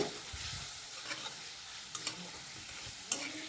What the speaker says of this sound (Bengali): এ পর্যায়ে আমি এর মধ্যে দিয়ে দিচ্ছি ইলিশ মাছ মাছগুলো আমি মশলাটির সাথে ভালো করে কষিয়ে নেব